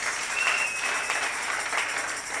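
A church congregation applauds the Lord Jesus during a New Year's Eve prayer vigil, with steady, dense clapping and cheering that fills the room and continues without a break.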